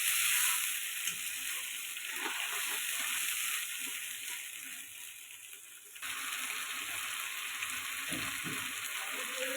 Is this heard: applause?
no